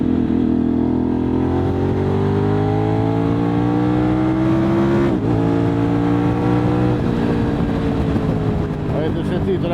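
A Voge X-Cape 1200 motorcycle engine pulls hard from second gear with quick-shifter upshifts, its loud, close exhaust note rising steadily in pitch, briefly breaking at a shift, then climbing again.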